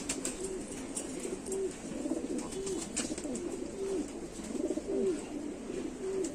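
High-quality Bataera Cheena pigeons coo in a steady repeating rhythm, each soft throaty call close by and clear against a low background hum, with no talk.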